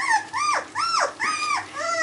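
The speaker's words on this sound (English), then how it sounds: "10 puppies" Australian Shepherd puppies, one of a litter of ten, whine and yelp in a string of four or five high, rising-and-falling cries, close and fairly loud.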